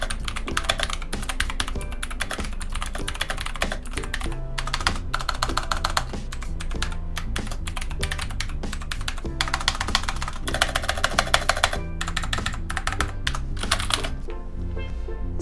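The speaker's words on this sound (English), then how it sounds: "what the blue mechanical switches sound like" Steady, rapid typing on a wireless mechanical keyboard with blue clicky switches, each keystroke giving a sharp, crisp click in a continuous close-up rhythm with brief pauses, no voices.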